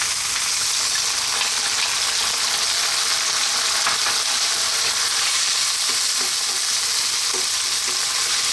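Canned sardines with fresh tomato sizzle steadily in a hot pan, a dense continuous frying hiss with faint stirring clicks, close and alone.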